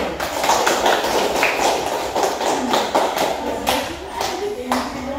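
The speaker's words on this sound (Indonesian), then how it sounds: "Jadi beri aplaus untuk kelompok 1." Students in a school classroom clap for a group, a dense patter of hand claps lasting several seconds with voices mixed in.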